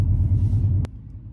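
An Audi RSQ3 with a 400 hp engine gives a deep, pulsing rumble that holds steady for under a second, then cuts to a quieter low idle hum; no one speaks.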